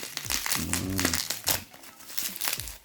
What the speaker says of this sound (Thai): แกะกันเลยดีกว่านะครับ